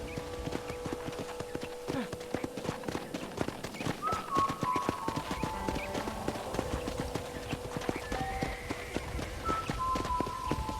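Horse hooves clip-clop at a steady riding pace in the Red Dead Redemption video game, a continuous rhythmic patter of hoofbeats with a low hum of ambient sound underneath and brief tonal bits in the mix.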